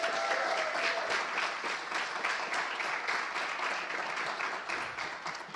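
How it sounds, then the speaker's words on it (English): An audience claps at a Brooklyn tech-careers event, a steady dense round of applause held at an even level for several seconds and easing slightly at the end. "can I get a big thank you and applause for the Center for an Urban Future staff?"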